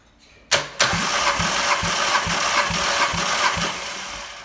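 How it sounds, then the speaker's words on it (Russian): A 2006 VW Transporter's 2.0-litre AXA engine cranks on the starter during a compression test on the first cylinder, with a steady, even chugging rhythm of compression pulses after a sharp start, close and loud. "Замер компрессии, первый цилиндр."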